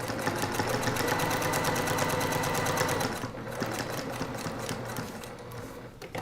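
Sewing machine straight stitching around a felt ornament, a fast steady mechanical whirr with rapid needle ticks for about three seconds, then slowing to quieter, uneven clicks as the fabric is turned by hand.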